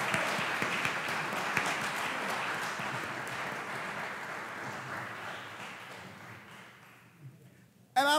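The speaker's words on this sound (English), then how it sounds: "let's take a second to give all you guys a round of applause" Audience applause at a school graduation ceremony, a steady wash of many hands clapping that holds for several seconds, then thins out and fades near the end.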